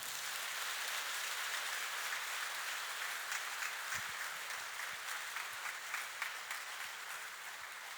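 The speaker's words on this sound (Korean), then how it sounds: "큰 박수해 주시길 바랍니다" A church congregation at a summer retreat service applauds, a faint, distant wash of many hands clapping that stays steady and even throughout.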